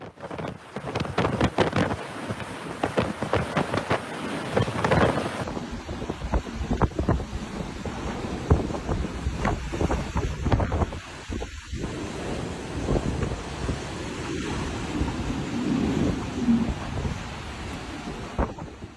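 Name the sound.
hurricane Ian wind in Florida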